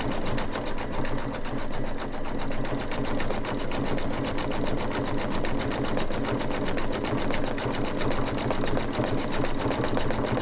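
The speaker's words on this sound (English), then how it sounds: "I'm just going to get a little louder going over the other additional stitches there" An embroidery machine stitches a bicycle-with-hearts design, running steadily with a fast, even mechanical rattle of needle strikes at constant loudness throughout, with no voices.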